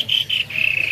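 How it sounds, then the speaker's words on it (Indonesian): A caged kopi kalung bird at the Pramuka bird market gives a high, thin, steady trilling call that pulses a few times and then holds, close and clear over a low murmur. "Nah itu bunyi burung kopi kalungnya kan kawan."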